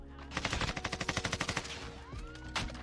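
Rapid automatic gunfire from the video game Warzone, a fast burst of about a dozen loud shots followed by a lone later shot, with game effects and a faint whoosh between.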